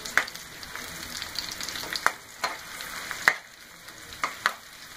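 Onions fry in a pan until lightly browned, giving a faint steady sizzle broken by several sharp clicks and stirring taps.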